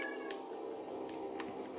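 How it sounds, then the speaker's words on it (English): A cat meows in the Roblox video game, faint and brief over a constant background of game ambience, with no talking. "Come here, cat. Hey, cat."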